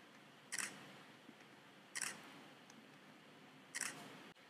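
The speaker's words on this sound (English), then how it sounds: "So I've got this like camera shutter click effect." Three separate camera shutter clicks, spaced roughly one and a half to two seconds apart, sharp and close against quiet background, used as a sound effect in editing.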